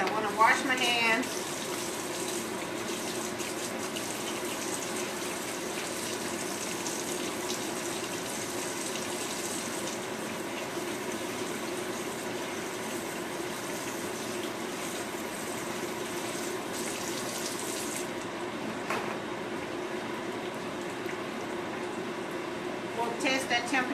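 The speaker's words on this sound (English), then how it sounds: "I want to wash my hands" A kitchen tap runs steadily for hand washing while a fish fry is being prepared, the water a constant broadband rush near the microphone with brief splashes, and a person speaks softly over it.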